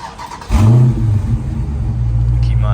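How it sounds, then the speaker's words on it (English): Warm start of a Camaro SS on its stock exhaust with mufflers, resonators and cats: a quiet lead-in, then the engine catches with a loud flare about half a second in and settles into a steady, deep, rumbling idle. "He finna go ahead and do a warm start with an idle."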